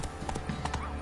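Roach, Geralt's horse in The Witcher 3, trots in a brief burst of hoof clip-clops with a faint whinny-like tone, close and fairly steady.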